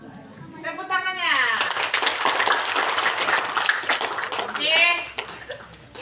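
Schoolchildren clap together at an elementary school literacy session, a dense burst of applause lasting a few seconds, sandwiched between brief spoken voices at the start and end.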